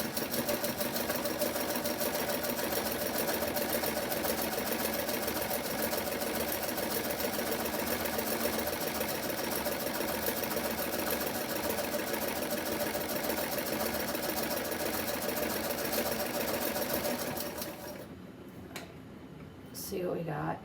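A Singer 27 treadle sewing machine sews with a spoon hemmer foot, giving a continuous rhythmic clatter for about seventeen seconds before it stops and a few handling knocks follow.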